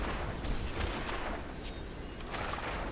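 Gunfire in the video game This Land is My Land, a dense, continuous crackle of distant shots blending into a noisy rumble without pauses.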